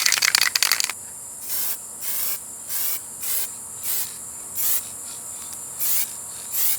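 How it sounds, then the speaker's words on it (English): A spray paint can hisses in a series of short, even bursts outdoors at night over mulch, about nine puffs with brief gaps, after an initial scratchy rattle. "I also accidentally just spray painted all the mulch."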